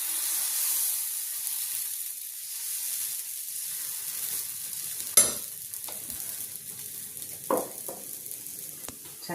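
Ada dosa batter hisses with a soft, steady sizzle on a hot griddle stone after a drizzle of oil, broken by a few sharp scrape and tap sounds from a spatula.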